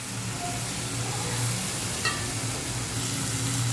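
Mutton liver frying in a pan, a steady close sizzle with faint stirring clinks, heard alone without talk.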